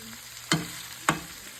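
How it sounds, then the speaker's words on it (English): Vegetables frying in bratwurst sausage grease in a pan, a steady low sizzle broken by two sharp stirring scrapes about half a second apart, close and fairly quiet, with no voices. "Let your vegetables season cook with the sausage grease that you cook."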